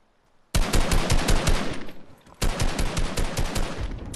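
Rapid bursts of video game gunfire hammer out loud and close, a dense automatic volley, a brief lull near the two-second mark, then a second sustained burst.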